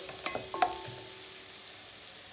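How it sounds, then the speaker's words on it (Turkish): Onions cooking slowly over low heat in a pot, a faint even sizzle with a few light clicks and taps of a spoon near the start. "Kısık ateşte soğanımızı terleterek pişireceğiz arkadaşlar"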